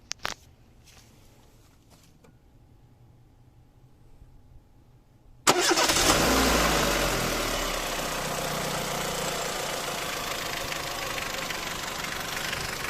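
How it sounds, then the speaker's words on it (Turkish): Car fitted with an LPG system sits quiet for several seconds, then the engine catches abruptly with a loud start and settles into a steady close idle with no talking. "Şimdi arabayı çalıştıralım."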